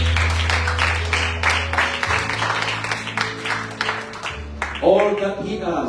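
A church congregation claps as an offering during a Sunday service, sharp rhythmic claps running under a voice and music.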